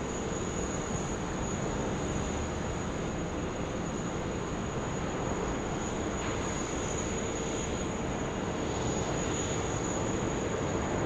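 Singapore freighter aircraft departing an airport, a steady distant broadband engine roar that holds evenly throughout, with no voices over it.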